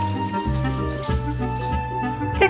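Water poured or sprinkled onto vegetable seedlings in a garden, a steady splashing trickle heard alongside bright toy-like music with tonal layers throughout; no voices.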